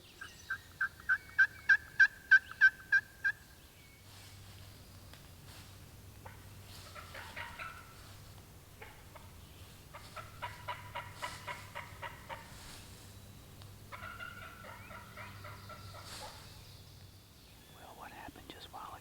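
A wild turkey gobbles in the distance during a Tennessee spring hunt, a quick series of rapid pulsed calls up front, followed by softer, faint birdlike calls over low rumbling ambient background.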